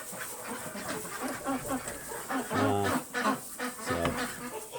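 Ducks and other poultry in a dark coop at night give repeated honking, squawking calls, fairly faint with some birds nearer, amid rustling and agitated chatter.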